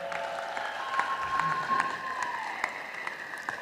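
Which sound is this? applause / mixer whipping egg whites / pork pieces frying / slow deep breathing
applause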